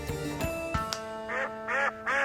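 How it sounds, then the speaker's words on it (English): A duck quacks in a few short, nasal bursts near the end, following a stretch of other noise during an outdoor comedy task to find a duck. "That's a duck."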